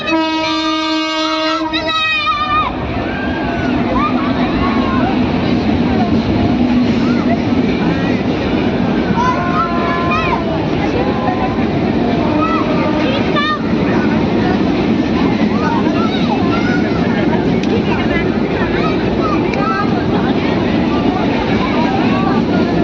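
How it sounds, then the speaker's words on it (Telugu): A passenger train passes near the Godavari river, opening with a loud blaring horn, then a long, steady rumble and clatter of wagons rolling by close at hand, with people talking nearby. "ఫ్రెండ్స్, ట్రైన్ అయితే వెళ్ళిపోతుంది."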